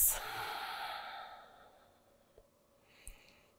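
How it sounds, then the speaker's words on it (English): A deep belly breath during a yoga flow: a long, soft exhale through the nose that fades over about two seconds, followed by a couple of faint small noises. "Deep belly breaths."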